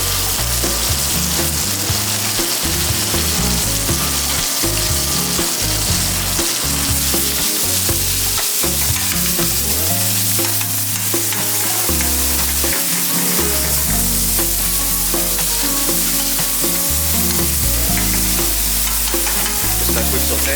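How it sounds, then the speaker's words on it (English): Ground bison seasoned with salt and pepper sautéing in a pan in an alpine ski resort kitchen, a steady loud sizzle with frequent stirring and scraping throughout. "Just a quick saute into it."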